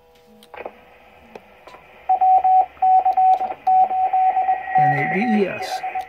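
A Kenwood TM-733 radio transmits on the 2-meter band. Brief squelch bursts are followed by repeated beeping tones in short rhythmic groups, then a warbling burst at the end, over faint background static.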